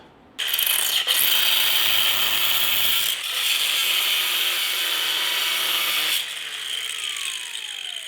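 A cutoff wheel grinding a groove straight down the centre of a bolt, a sudden loud sustained high-pitched abrasive whine with a brief dip midway, then the wheel cuts out and spins down to quiet.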